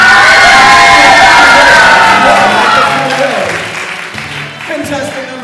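A high school improv-night audience bursts into loud applause and cheering for a contestant, with whoops and shouts that peak at once and then slowly die down, and voices emerge as the noise fades.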